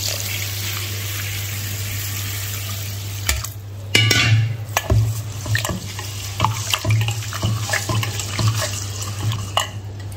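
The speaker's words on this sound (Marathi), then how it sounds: "चला तांदूळ चांगला स्वच्छ धुवून घेतलेला आहे" Parboiled rice being washed in water: sloshing, swirling and splashing with a few sharp knocks against the vessel, close and fairly loud over a steady low hum.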